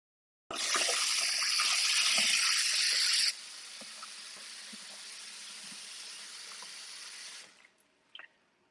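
Hot tap water gushes loudly into a cooking pot for brown rice penne, a strong steady rush that softens partway through as the pot fills, then stops, followed by a faint clink.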